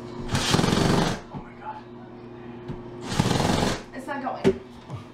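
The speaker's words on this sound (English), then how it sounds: "I don't know how to use the drill." Two bursts of a power drill whirring, each about a second long, with quieter thumps and handling noises between and after them.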